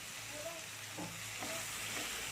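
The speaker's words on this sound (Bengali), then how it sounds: "আমি এর সাথে ভালো করে কষে নিচ্ছি" Partly boiled potatoes fry with masala in a pan, giving a steady close sizzle with soft stirring sounds and no talking.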